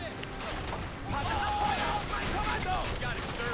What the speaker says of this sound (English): Laying down a nice battery of fire.